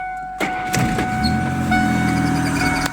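A VAZ 2101 car engine cranks with a sharp start-up burst, then settles into a steady close idle with a faint whine running over the hum.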